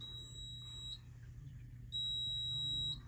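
A school fire alarm system under test sounds again: two sustained high-pitched electronic tones, each about a second long, separated by a short pause over a steady low hum of room noise.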